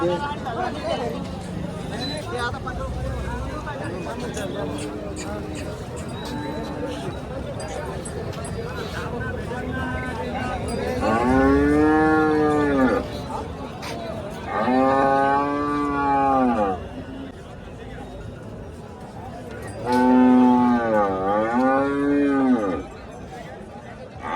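Bulls low loudly and repeatedly nearby at a cattle market in Deulgaon Raja, three long drawn-out moos standing out over people chattering and general market bustle.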